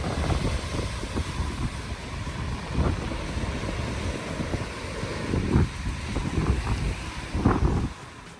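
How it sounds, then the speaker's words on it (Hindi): Ocean waves breaking and washing on the Sri Lankan coast with steady wind buffeting the microphone, a continuous roar punctuated by several louder surges of surf. "हमने लहरों की आवाज़ को एंजॉय करो और हवा भी काफ़ी अच्छी चल रही थी"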